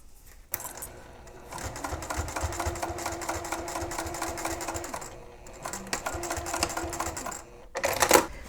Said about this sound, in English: make sure that you stitch all across the top of the lining here.